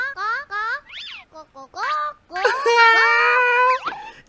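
A cartoon chicken sound effect from the Pocoyo app game plays loudly as a run of warbling, squawky clucks and swoops, then ends in a long, wavering call.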